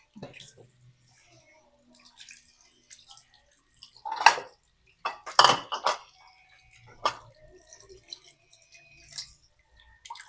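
Stingray fish is washed with water before cooking, giving sparse splashes and sloshes with a few louder bursts of running or poured water, close by and separated by quiet gaps.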